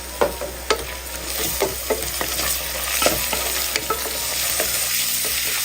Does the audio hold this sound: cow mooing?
no